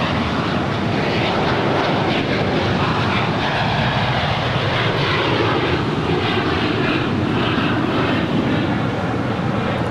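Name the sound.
Bombardier Global 7500 business jet taking off at LAX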